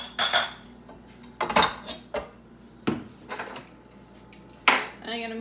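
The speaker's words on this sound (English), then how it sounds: "So I take the vanilla beater out." Metal vanilla beater lifted out of a stand mixer bowl while making cupcakes, giving several sharp clinks and clatters of metal against the bowl, close and fairly loud, separated by short quiet gaps.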